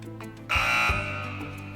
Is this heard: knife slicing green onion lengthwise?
no